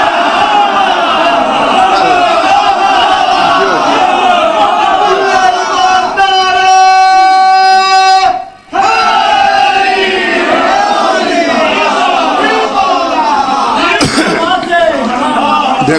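Crowd chanting a religious slogan in response at a Rabi ul-Awal majlis gathering, loud massed voices sustained throughout, with a brief sung or drawn-out unison phrase and a sharp dropout near the middle.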